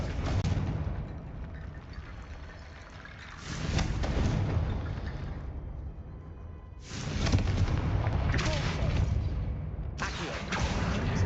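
Blasting spell explosions in the wizarding game Hogwarts Legacy, repeated loud booming bursts with roaring fiery tails arriving in clusters a few seconds apart, close and forceful amid battle noise.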